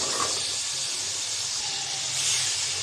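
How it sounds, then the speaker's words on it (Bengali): Vegetables such as potato, pointed gourd and spiny gourd with small shrimp, added to hot spiced masala in a pan, producing a steady, close, loud hissing sizzle that holds evenly throughout without talk. "আমি এখন এর সাথে সবজি দিয়ে দেব।"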